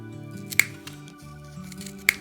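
Scissors snip crochet yarn twice in short, crisp cuts about a second and a half apart, close up over soft background music.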